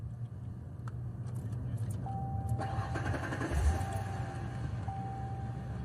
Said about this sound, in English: I am going to start the car.